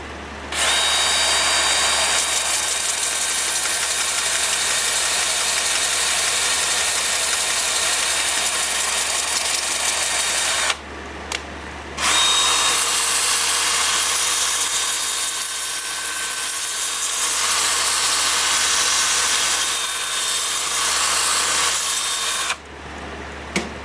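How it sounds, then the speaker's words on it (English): Wood lathe spinning at about 340 RPM while turning a massive ponderosa pine blank, a steady loud mechanical whir with a hissing, broadband tone, running nearly continuously with two brief pauses. "Gonna have the lathe spinning at about 340 RPM"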